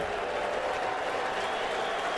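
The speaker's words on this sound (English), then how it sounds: "as you hear the crowd getting behind Parker Messick" Baseball crowd cheering and applauding for pitcher Parker Messick during a no-hitter bid against the Orioles, a steady, dense roar of distant clapping and voices that holds evenly throughout.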